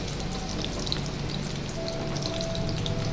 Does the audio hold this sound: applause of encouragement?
no